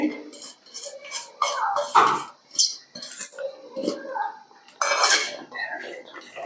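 Drumstick leaf bonda batter mixed by hand in a metal bowl, with chopped leaves and onion. Irregular clinks, rubs and scrapes sound close and fairly loud, in uneven bursts with short pauses.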